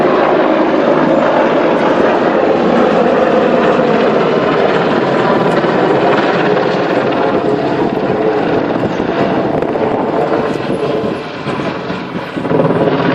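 An AH-64D Apache helicopter performing a corkscrew display maneuver at an air show, its rotor and turbine roar loud and continuous, broadband and steady with slight swells as it pitches.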